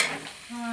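A brief, faint sizzle and stir of a tempering of garlic, onion, green chili and mustard seeds frying in hot oil, heard alone.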